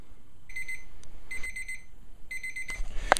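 A kitchen timer alarm rings in short repeated bursts of high beeping, three clear groups across the clip with quiet gaps between, fairly loud and close, signalling that chicken poached in broth for a chicken pot pie is done.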